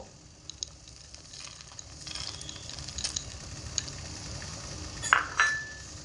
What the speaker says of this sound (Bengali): হালকা করে একটু নাড়াচাড়া করে নেব